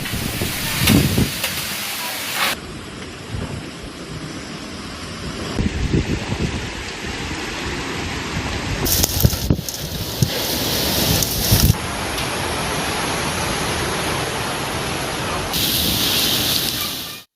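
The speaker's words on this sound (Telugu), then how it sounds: "ఈదురుగాలతో కూడిన వడగళ్ల వాన పడింది" Rain driven by gusty wind pours down during an evening hailstorm, a dense, hissing wash that swells and fades in bursts, with a few sharper patters.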